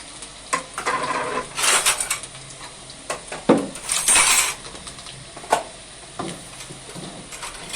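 Dishes, pots and pans being put away in a home kitchen, with irregular close clinks, knocks and metallic clatters scattered throughout and no talking.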